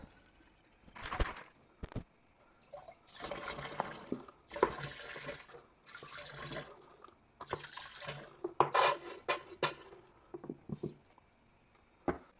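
Water poured from a tap or jug into a honey mixture for home-brewed mead, a splashing, gushing pour in several bursts with brief pauses, close and fairly loud, with no one talking.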